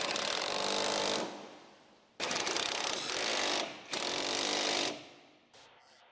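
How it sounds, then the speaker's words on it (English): A power tool, likely an impact or ratchet driver on a 17mm socket with extension, tightening the lower motor mount bolts of a 2006-2011 Honda Civic; three loud, steady whirring bursts of about a second each, with short pauses between. "Use 17mm with extension to tighten the 2 lower bolts."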